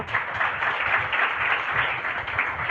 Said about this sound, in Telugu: ఇప్పుడు గట్టిగా చప్పట్లు